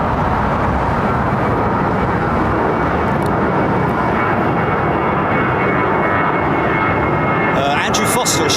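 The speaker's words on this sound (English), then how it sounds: "E2 jet with Porter to Fort Lauderdale." A Porter Embraer E2 jet at London Heathrow Airport roars steadily as a loud, broad engine rumble that holds for the whole stretch, with faint voices mixed in.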